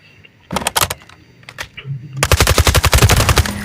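AUG assault rifle fired in a video game through a scope, heard as short scattered bursts followed by a loud, rapid sustained string of shots.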